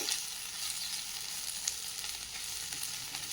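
Onions fry in a kadai with a steady, close sizzle and faint crackles throughout, with no talk.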